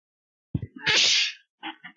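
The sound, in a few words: sneeze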